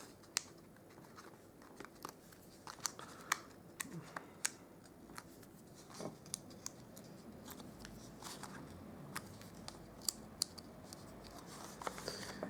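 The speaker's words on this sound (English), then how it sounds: "So I'll just take off all the backings." Adhesive backings are peeled off paper card-making pieces, a run of close, faint crinkly snaps and tearing ticks at an uneven pace in a quiet room.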